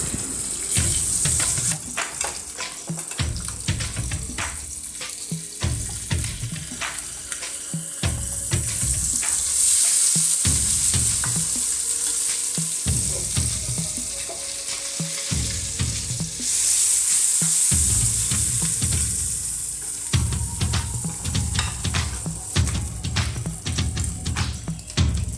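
Manthal, a sole fish, fries steadily in a pan with a continuous loud sizzle, broken by repeated low knocks and scrapes of a utensil, plus a brief splash of running tap water partway through.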